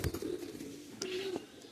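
A pair of Khulna pigeons, female in front and male behind, give soft low coos, a couple of drawn-out calls with brief rustles between, faint and close by.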